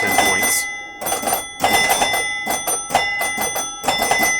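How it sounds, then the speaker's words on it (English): A small bell in the back box of a Williams Honey pinball machine rings loudly and repeatedly in rapid bursts, harsh metallic clanging trills separated by brief pauses. "there's a little bell in the back box that's part of the match mechanism, and that scores on the 10 points."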